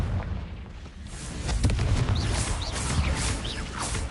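Confringo blasting curse from Hogwarts Legacy, a fiery spell explosion bursting out around 1.6 seconds over a steady rumbling game backdrop, followed by crackling, whooshing magical effects and fainter blasts.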